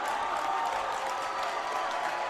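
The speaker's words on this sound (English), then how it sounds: "Crowd is getting very active right now." A high school boys' basketball crowd applauds and cheers in a gym, a steady, even wash of clapping and voices that never drops out.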